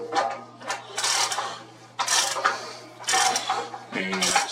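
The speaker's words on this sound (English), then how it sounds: "we'll tighten it up with our 21 millimeter socket here" A 21 mm socket wrench tightens the spark plug on a Generac GP5500 generator, making four close, bursty spells of ratcheting and metallic clicking separated by short pauses.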